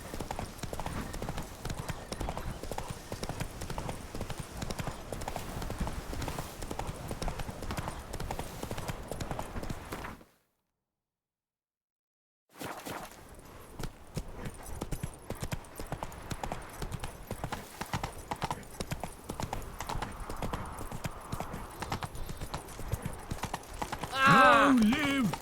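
Roach the horse from The Witcher 3: Blood and Wine gallops in a fast, steady clip-clop of hooves that runs throughout and cuts out briefly midway before resuming, with game sounds underneath.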